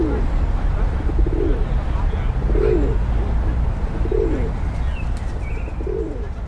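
A male feral pigeon coos in courtship in London, soft repeated rolling calls about once a second, close, over steady low traffic rumble.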